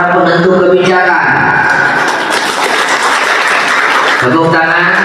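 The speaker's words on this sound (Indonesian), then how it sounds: "Beri aplaus kepada para penentu kebijakan." Someone speaking at a public talk gives way to a burst of audience applause, a dense clapping wash in the middle that fades as he resumes speaking.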